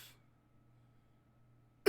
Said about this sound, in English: now that I turn the mic back on, my cough's back.